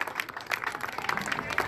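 Festival crowd at Cerro de la Estrella applauding outdoors: a dense, steady wash of many hands clapping at once, moderately loud and continuous with no talk over it.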